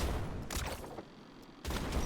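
Rocket launcher fired in the fast-paced first-person game Neon White, producing a burst of blast noise at the start, a second explosive hit midway, and another roar near the end, with no talk.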